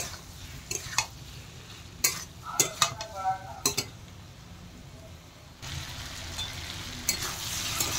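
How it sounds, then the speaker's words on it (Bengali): Boiled potatoes being sautéed with spices in a pan for egg curry, soft sizzle with a few sharp spatula scrapes and clinks against the pan, close by, then a louder steady frying hiss toward the end. "সেদ্ধ করা আলুগুলো দিয়ে দিলাম। দিয়ে আর একটু ভালো করে মশলার সাথে কষিয়ে নেব"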